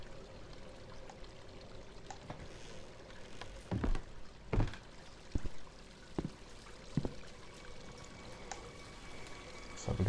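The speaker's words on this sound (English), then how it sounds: "I could hear running water." Running water in the horror game Visage, a steady hiss-like flow with a few louder knocks and thumps over about ten seconds and no voices.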